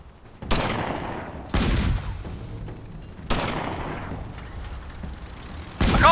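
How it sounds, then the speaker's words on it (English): A heavy ship's gun fires in the airship combat game Guns of Icarus Online: four loud, spaced booms, each trailing off into a long rumbling decay. "Keep firing at the same position."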